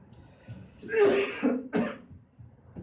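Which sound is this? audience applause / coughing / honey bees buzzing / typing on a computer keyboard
coughing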